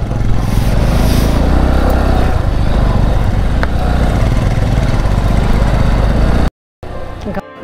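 A motorcycle engine drones loudly and steadily while riding a mountain road from Pokhara to Ghandruk in Nepal, cutting out briefly near the end before resuming more faintly.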